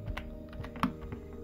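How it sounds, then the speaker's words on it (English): Keystrokes on a computer keyboard while entering commands in TempleOS running under VMware, a quick run of soft close clicks with one sharper tap near the middle, alone without speech. "by typing CD into the T drive."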